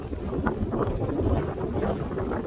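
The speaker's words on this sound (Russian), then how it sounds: "Сильный, вообще сильный ветер пошел." Loud, continuous rushing strong wind buffets the microphone at an outdoor marathon, a rough roar with no talk over it.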